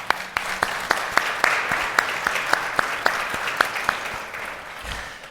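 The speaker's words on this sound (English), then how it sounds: "So let's give Sue a round of applause" An audience at a heart valve disease awareness day kickoff event gives a round of applause, steady dense clapping with regular louder accents that thins toward the end.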